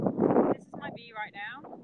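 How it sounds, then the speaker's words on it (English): Gusty beach wind buffets the microphone in a loud rumbling burst, then someone speaks over lighter breezy noise. "So sorry about the wind factor"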